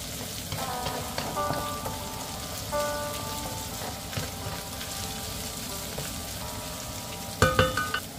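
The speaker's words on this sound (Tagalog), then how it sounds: "Tuloy-tuloy lamang sa paggisa, hanggat maamoy ng kapitbahay ang bawang at sibuyas na ginigisa." Garlic and onion sizzle steadily in a hot pan while being sautéed, a dense continuous crackle with a brief clatter of utensils near the end.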